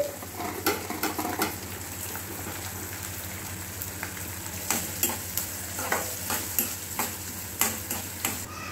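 Finely chopped onions fry in a pan with curry leaves while being stirred, a steady sizzling hiss broken by regular scraping strokes of a spoon against the pan, close and alone without speech.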